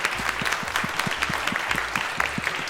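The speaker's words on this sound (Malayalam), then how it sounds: "ഒരു ക്ലാപ്പ് കൊടുക്കണം" An audience claps together in a steady burst of applause lasting a few seconds, fairly close and even in loudness.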